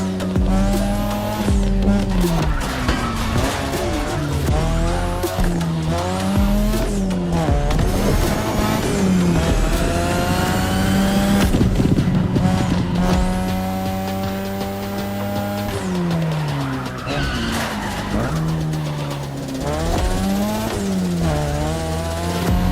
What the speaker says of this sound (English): Tonight, your ride is a third-gen 2002 Mazda RX-7. Lightweight, compact, a sick rotary engine